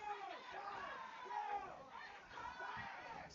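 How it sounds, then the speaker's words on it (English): Home crowd at a Santiago varsity football game against Saddleback, a steady roar of cheering and chatter from many voices filling the whole clip at moderate distance, with swells of excitement. "That is a Santiago crowd feeling energized"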